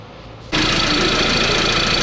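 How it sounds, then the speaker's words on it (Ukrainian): A quiet hum gives way abruptly to a loud, steady Ford Transit van engine running nearby, a constant rumbling drone that holds without change. "Все нормально, двигунець працює."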